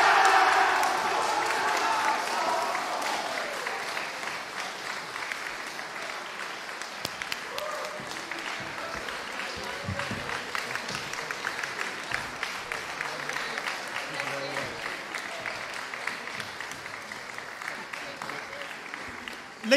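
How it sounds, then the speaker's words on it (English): Sustained applause from a large crowd at a school house music competition, loud at first with some cheering, then settling into steady clapping that carries on for a long stretch. "Can we please just, before you go, have one big round of applause?"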